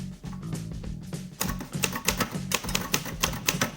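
A Sears Cutlass manual typewriter is typed on at a steady pace, with a rapid run of crisp, close key strikes and mechanical clacks and no talking.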